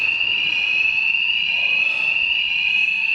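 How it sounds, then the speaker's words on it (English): A fire alarm sounds a continuous, loud, high-pitched electronic tone without a break, heard alone on the site of the Avro Lancaster Just Jane, NX611, during fault finding. "and now they've set the fire alarm off."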